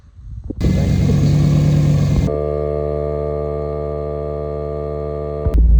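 A Z/28 Camaro, an abandoned car brought back with fuel system work, drives with its engine holding a loud, steady droning hum that swells in at the start and runs nearly unchanged to the end.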